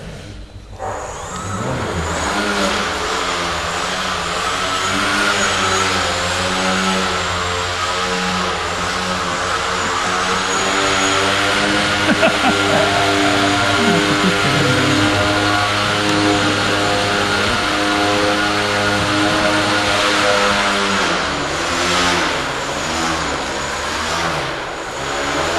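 A large model aircraft flying overhead with its engine droning steadily, the pitch rising and falling as it passes and circles, loud and continuous with no talk.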